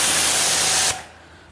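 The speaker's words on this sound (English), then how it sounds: "when I spray the water" Water hissing hard from a pressure sprayer onto a Barra GT350 car during a wash, a loud broadband spray that cuts off abruptly partway through, leaving a faint drip and fade.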